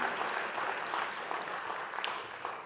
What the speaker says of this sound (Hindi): एक बार जोरदार तालियों से स्वागत कीजिए इनका.